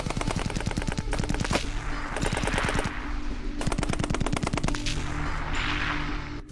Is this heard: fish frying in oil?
no